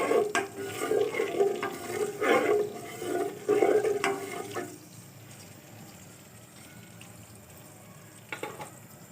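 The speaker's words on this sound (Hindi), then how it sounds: "ऑयल जो है गर्म हो चुका है। अब इसके अंदर मैं 1 टेबलस्पून नमक डाल देती हूँ और इसको मिक्स कर देती हूँ।" Salt is stirred into hot oil in a pan for a chicken karahi, with a spoon scraping and clinking rhythmically against the metal for several seconds before the sound stops and only faint background sound is left.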